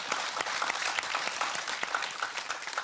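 Dense audience applause filling a hall after a dance performance by ten-year-old children, steady and close with sharp individual claps throughout.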